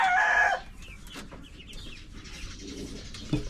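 Dekalb White and Dekalb Brown chickens fed in a backyard pen cluck and call close by: a loud burst of clucking opens, followed by quieter scattered clucks and rustling.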